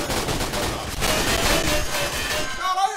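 Rapid bursts of gunfire in the video game Line of Sight rattle continuously, dense and loud, with a muffled voice faintly underneath.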